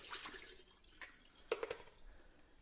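Rinse water drains out of washed salad greens in a kitchen, a faint trickling and splashing with a few soft drips and small clunks, quiet and close, no talking.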